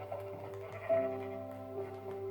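A sheep bleats in a long, wavering cry, then again more softly, set against a steady low hum.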